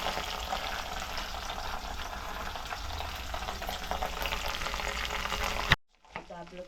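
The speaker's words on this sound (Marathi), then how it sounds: "आणि ढवळून घेते." Ginger-garlic paste sizzles steadily in a hot pan as it is stirred while cooking for pasta, a loud continuous frying crackle that cuts off abruptly near the end, leaving a faint quieter scrape.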